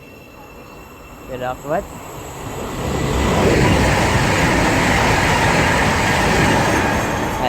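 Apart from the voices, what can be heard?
train passing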